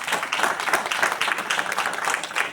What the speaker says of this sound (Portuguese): Bate palmas para o Senhor Jesus.